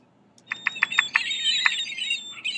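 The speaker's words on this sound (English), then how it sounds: "There's the seagulls." Recorded seagull calls play as a quick series of sharp, bright cries, a few close together and then a longer call, faint and thin over a quiet background with no talk.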